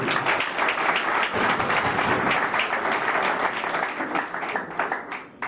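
A rally crowd applauds at a political gathering, dense continuous clapping from many hands, loud and close, holding steady with slight swells before tapering near the end.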